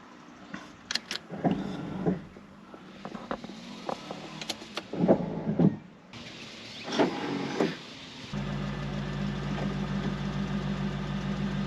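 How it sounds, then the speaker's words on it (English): Electric pop-up headlight motors on a C5 Corvette whir in several short bursts, each a brief mechanical buzz with clicks, followed by a steady idling engine hum near the end. "So pop-up headlights, super cool."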